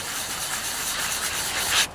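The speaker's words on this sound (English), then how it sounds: "This is just a little sanding pad" Steady abrasive rubbing of a small sanding pad against a Briggs and Stratton twin-cylinder engine surface, continuous and close, with a slightly louder scrape near the end.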